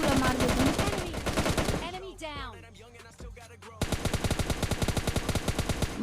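Rapid automatic gunfire from PUBG Mobile Lite, loud dense bursts that drop away for a couple of seconds of quieter game sounds, then resume as a sustained rattling volley.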